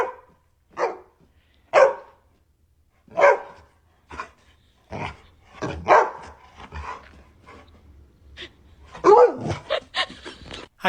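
A dog barks in a series of sharp, separate barks spaced irregularly, loud and close, with growly yips and a few quicker bursts near the end.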